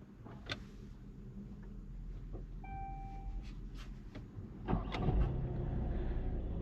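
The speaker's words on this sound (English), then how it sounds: "let's start the car first" A Ford Tourneo Connect engine cranks briefly with a push-button start and catches, then settles into a low, steady idle, with a few soft electronic tones earlier.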